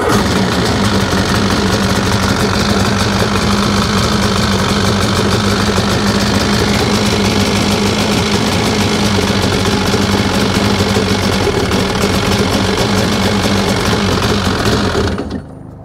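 A two-stroke Sea-Doo engine runs loud and close at a fast, steady, buzzing rattle for about fifteen seconds before cutting off abruptly at the end.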